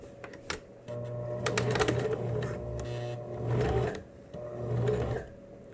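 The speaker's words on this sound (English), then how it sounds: "Now, I'm going to put in a top stitch here on the side" A sewing machine runs top-stitching along the side of a face mask with a wire and filter pocket, in several bursts of steady rapid needle clatter separated by brief pauses.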